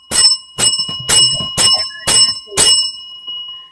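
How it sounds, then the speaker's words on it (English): A bell rings six times in a steady rhythm, each strike bright and loud with a short ringing decay, heard alone. "Let the bell ring."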